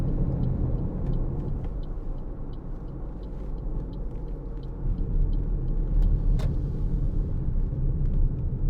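A 2017 Toyota RAV4 2.0 D-4D diesel Business Edition cruising at about 50 mph, heard from inside the cabin as a steady, loud low rumble of road and engine noise that swells slightly toward the end, with no talking.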